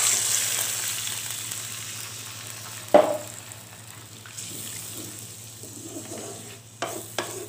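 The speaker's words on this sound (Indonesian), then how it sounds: "Kemudian setelah ini kita tambahkan santannya" 350 ml of coconut milk is poured into a hot pan of frying spices, setting off a steady sizzle and bubbling, with a clatter of utensils partway through.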